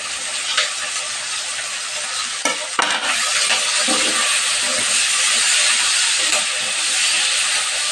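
Onions and plenty of green chillies frying in hot oil, a loud continuous close sizzle with a few scraping spatula strokes near the start.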